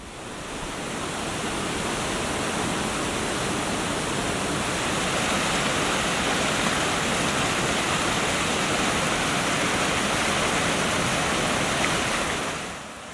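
A river in wild Devon rushes past in a dense, steady roar of flowing water, loud and unbroken from start to finish, with no voices.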